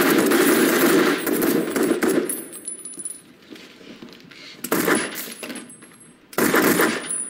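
Heavy automatic gunfire from a gunfight in the action movie Triple Frontier, loud sustained bursts at the start and again near the end, with metallic clinks and quieter scuffling between them.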